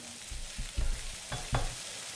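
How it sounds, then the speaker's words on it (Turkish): Sausages fry in a pan with a close, steady sizzle, broken by a few louder scrapes and knocks of stirring. "Sosis yanıyordu bak dikkat edin"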